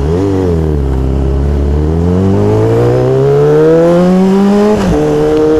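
A car passes close by near a roundabout, its engine rising in pitch as it accelerates, loud and steady throughout with a brief clunk near the end.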